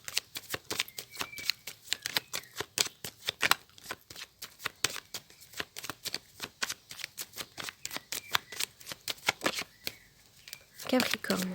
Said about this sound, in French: Je vais faire une coupe avec le tarot que j'utilise pour les consultations, pour les Capricornes.